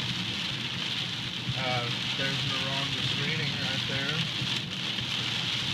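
Hard, steady rain pours down continuously throughout, a dense hiss under a voice that talks over it.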